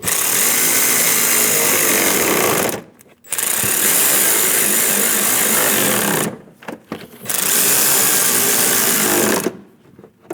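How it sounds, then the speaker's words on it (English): Power tool snugging down side shroud bolts on a 2003-2025 Chevrolet Express 2500, three loud sustained buzzing runs separated by short pauses, close and alone. "Snug down the bolts."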